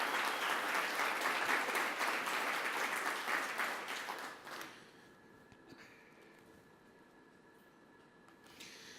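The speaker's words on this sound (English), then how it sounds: "I want to give him not only one round of applause, 2 rounds of applause" Loud audience applause at the opening of a smart city forum, dense clapping for roughly four and a half seconds that then stops abruptly, leaving a quiet room with faint rustling and murmurs.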